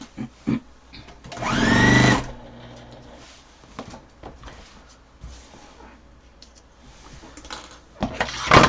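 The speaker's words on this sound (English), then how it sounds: "Now make sure you back stitch there." A sewing machine back stitching a pillow, with a short whirring run of stitches followed by clicks and handling noises, then a brief second start near the end.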